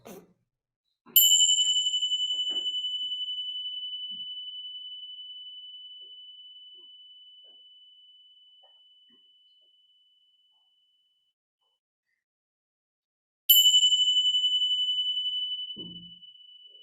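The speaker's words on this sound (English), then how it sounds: "And just following the bells until the sound flows into silence." Meditation bells ring out alone, each clear metallic strike sustaining a long bright tone that slowly fades into silence, with a second strike following after a quiet pause.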